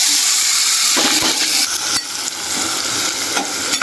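Ingredients tipped into hot tempering oil for halwa, then stirred: a steady, loud sizzle of frying with scraping stir strokes and a few sharp clinks, no voices.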